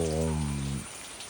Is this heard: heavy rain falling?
yes